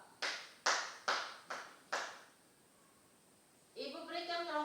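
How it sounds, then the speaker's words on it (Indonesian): Classroom applause for a student group after its presentation: about five sharp, separate claps in a steady rhythm, a brief pause, then a voice speaking. "Mari kita memberikan aplaus kepada"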